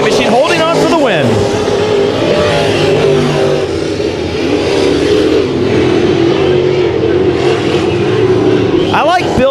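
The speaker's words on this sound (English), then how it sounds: "At a turn number four, it will be Robbie Sawyer in the 198 machine holding on for the win" Modified race cars roar around Bakersfield Speedway in a loud, continuous engine drone with cars sweeping past, while an announcer talks over the racing.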